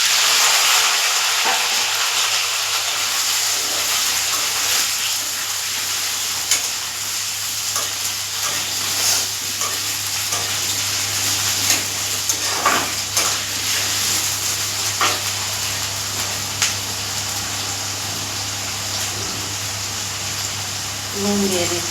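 Potatoes and slit green chillies frying in oil with whole cloves, a steady low sizzle with occasional stirring clatter running throughout, while a voice talks over it.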